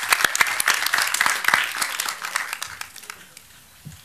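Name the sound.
applause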